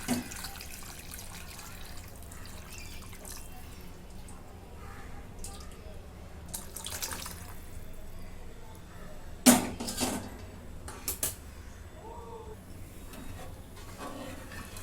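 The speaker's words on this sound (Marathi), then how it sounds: "थोडंसं पाणी ओतून घेते" Water is poured into a pan of chicken rassa masala with a soft, splashy trickle over a low background murmur, with a sharper splash partway through.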